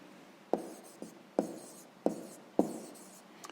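Pen strokes on paper while a sixth-grade math exercise answer is written down, five sharp scratchy taps spaced about half a second apart, close and quiet.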